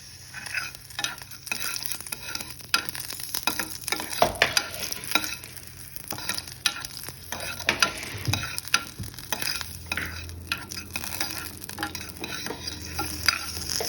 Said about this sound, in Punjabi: ਆਪਾਂ ਵਿੱਚ ਹਰੀ ਮਿਰਚ ਵੀ ਭੁੰਨ ਲਵਾਂਗੇ ਚੰਗੀ ਤਰੀਕੇ ਨਾਲ